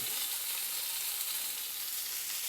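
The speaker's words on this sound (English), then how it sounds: "It's sizzling, not bad." Steady, close sizzling of skewers frying on a hot stovetop grill pan, a continuous bright crackling hiss with no talking.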